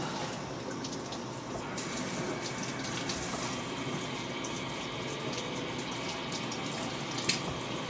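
Water runs steadily over the loosened roots of a plant being repotted, a continuous gentle splashing and trickle with no voices.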